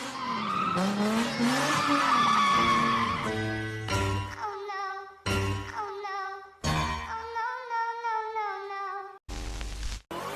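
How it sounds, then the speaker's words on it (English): Sports car tires squealing and skidding through a burnout, a loud sustained shriek with wavering pitch, broken into several separate bursts with short gaps between them. "That's what we call a clean burnout."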